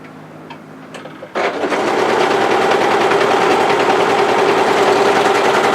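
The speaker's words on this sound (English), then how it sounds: "So place those together and overlock." An overlocker stitches fabric seams for a mid-thigh cocoon-style cardigan, starting with a few faint clicks, then running into a loud, continuous rapid mechanical whir that holds steady.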